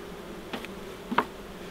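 A wild honey bee swarm, taken from a tree and housed in a box outdoors, gives a faint steady buzz with a couple of brief louder passes of single bees flying close by.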